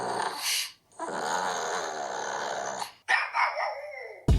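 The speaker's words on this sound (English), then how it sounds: "that snuffling and gruffling and barking is the sound of a pug I just stole from YouTube" A pug snuffles and gruffles in a long throaty growl, then gives a few sharp barks, all loud and close.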